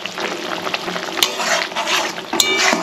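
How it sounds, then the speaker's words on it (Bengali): Mustard paste being stirred into a simmering mourola fish sour curry, with steady bubbling and sizzle under soft scraping of a spoon against the pot and a couple of sharper clinks, close and continuous. "এদিকে টকটা ফুটে গেছে এর মধ্যে দিয়ে দেবো মোরলা মাছগুলো এবার একটু দিয়ে দেবো সরিষা বাটা"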